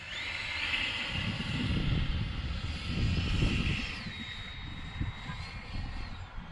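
A Freewing A6 Intruder RC jet flying overhead, its ducted-fan whine rising and falling steadily with a high tonal sweep, moderately distant and continuous, with no talk.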